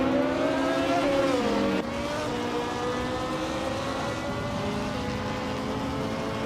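Race car engines drone loudly and steadily as cars run nose to tail, a sustained high whine that drops in pitch partway through and keeps going, with no voices.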